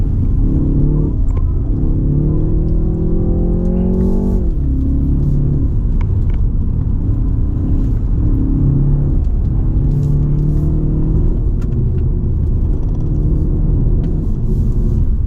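A 2019 BMW 330i G20 M Sport climbs a mountain road uphill, its engine droning loud and steady with a low rumble, pitch rising and dropping through long gear changes, continuous throughout with no talk.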